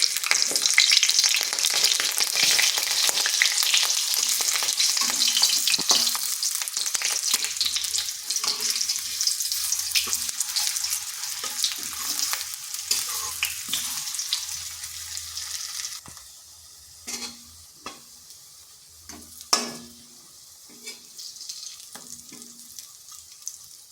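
Cauliflower stems frying in oil in a pan, a loud continuous sizzle with occasional scrapes and clinks as pieces are flipped; partway through the frying quiets noticeably, leaving sparse crackles and a sharp clatter.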